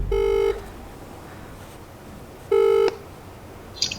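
Two telephone dialing tones sound as a call is placed, each a short steady electronic beep about half a second long, separated by a couple of seconds of quiet room hiss, with a faint click at the end.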